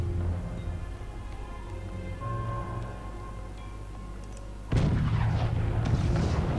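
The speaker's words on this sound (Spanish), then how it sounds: "Y ahora le metemos un cañonazo ahí." A cannon fires in the video game Forts, a sudden loud blast that breaks over a steady low rumble of game ambience and music.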